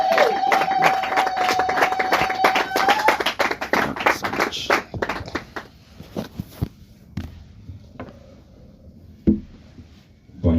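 A church congregation cheering for Jesus Christ breaks into sustained loud applause that thins out into scattered claps and a few taps before falling quieter.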